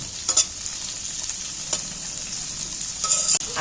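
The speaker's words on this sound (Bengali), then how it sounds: "এবার এই তেলের মধ্যে বরবটিগুলো নাড়াচাড়া করে ভেজে নেব" Long beans are stirred and fried in hot oil, giving a steady close sizzle with brief scraping bursts of the utensil near the start and end; no one speaks.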